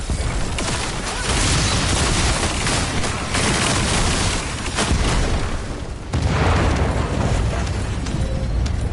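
Heavy gunfire shooting down an aircraft in the video game The First Descendant, a dense continuous roar of shots and explosions, loud and close, with no talking over it.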